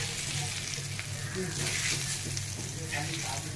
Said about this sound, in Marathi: स्लो गॅसवर हे दोन्ही बांगडे छान असे भाजून घेणार आहोत म्हणजे फ्राय करून घेणार आहोत